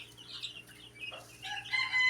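Broiler chicks hatched in an incubator chirp faintly in short, high peeps that grow a little busier toward the end, quiet and slightly distant, with no voices.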